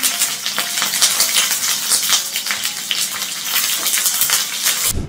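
About three medium onions sizzle in mustard oil beside dried chillies, a steady loud crackle and hiss that carries on without a break and stops abruptly at the end.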